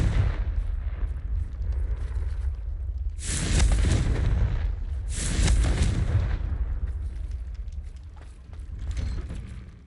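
Confringo fire spells explode in the Hogwarts Legacy video game, two heavy booming blasts a couple of seconds apart, each with a rumbling tail over quieter ambient game sound.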